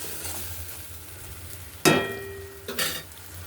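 Mustard-poppy spice paste for tilapia curry sautés in a pan with a soft, steady sizzle, interrupted by two sharp metallic scraping clatters from a spatula against the pan.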